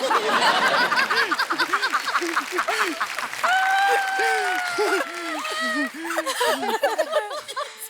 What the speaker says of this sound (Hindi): एक बार अंकिता लोखंडे, दिव्यांका त्रिपाठी, उर्वशी ढोलकिया और अनीता डॉट हसनंदानी के लिए जोरदार तालियां हो जाएं।